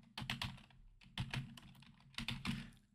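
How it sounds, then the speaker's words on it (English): Keys clatter on a computer keyboard in three quick bursts of typing, close and clear with short pauses between, no voices present. "let's just type that in."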